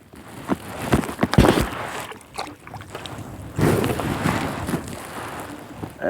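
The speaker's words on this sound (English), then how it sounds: "I don't want the wind to blow me out" Wind gusts buffet a small fishing boat on a central Florida lake during springtime crappie jig fishing, a rough broadband rush rising and falling with a few knocks of the hull or gear, close to the microphone and with no talking.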